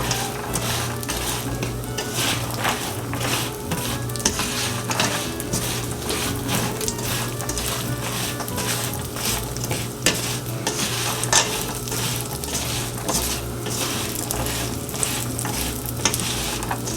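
Chopped pecans cook in a hot pan, a continuous close frying crackle broken by constant scraping and stirring strokes of a utensil against the pan, with no talking.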